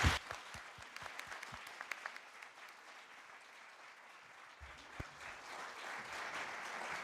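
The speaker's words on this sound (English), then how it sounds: "A big round of applause for our first group" Faint, distant audience applause for a panel group at an Armenian leadership event, steady soft clapping with a few sharper claps near the start.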